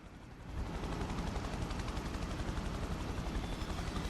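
In the Prototype video game, a helicopter's rotor drones loudly and continuously while its weapons fire in rapid bursts, a dense, steady rattle with no talking.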